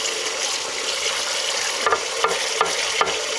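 Sponge scrubbing a greasy, burnt grill pan, a steady wet rasping swish with a few sharper scraping strokes near the end, close and alone.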